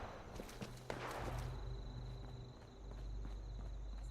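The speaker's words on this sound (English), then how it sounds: "I'm just walking on concrete, so it's not that loud." Footsteps on concrete in Fallout 76, soft and fairly quiet, a few light taps over a low steady ambient hum with a faint high-pitched insect-like whine.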